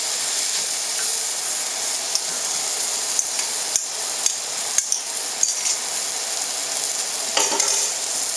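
Tomato and egg being stir-fried together in a wok, with a loud continuous sizzle and hiss broken by sharp clacks of the spatula against the metal, close up and without talk.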